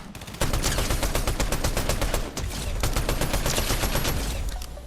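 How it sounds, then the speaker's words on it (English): A green assault rifle in Fortnite fires long, rapid automatic bursts, loud and close, with a brief pause before the shooting resumes and then tails off. "I'm hoping to use the green assault rifle just to show you the kind of beastly weapon that we've built here"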